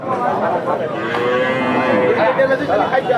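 A cow at a cattle market lets out a long, loud, close moo that fills most of the moment, with faint crowd noise behind.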